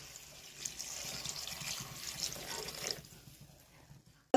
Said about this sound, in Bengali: জল দেওয়া হয়ে গিয়েছে